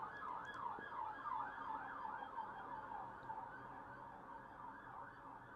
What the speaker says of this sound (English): Let's wait for the sirens to pass.